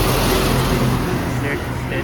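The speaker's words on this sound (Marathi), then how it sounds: "बाजूनेच गाड्या जातात बघा." Cars and other traffic rush by steadily on a roadside highway near Satara while a tyre is being changed, a continuous close roar of passing vehicles under people talking.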